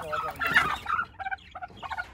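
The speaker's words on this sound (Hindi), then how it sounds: "मुर्गी को उठा के अंडों वाली जगह पे जो है ना ले जाता हूँ" A hen clucks and squawks up close as it is lifted and carried by hand, several agitated calls in quick bursts with short pauses between them.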